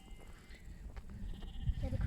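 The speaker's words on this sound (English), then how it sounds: "Sheep are bleating." Sheep bleating on open farmland near an old packhorse bridge in a rural village valley, the calls faint and distant over a low, rumbling outdoor background.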